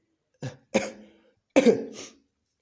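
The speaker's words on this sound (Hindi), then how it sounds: "थोड़ी सी सर्दी खांसी बाकी है अभी" Three dry coughs from a man with a lingering cold, close and fairly loud: two short ones in quick succession, then a longer, rougher one after a pause.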